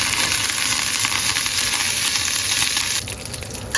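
Dried red chillies and curry leaves sizzle loudly in hot oil for a poori potato curry. The frying hiss is steady and close, then eases slightly toward the end.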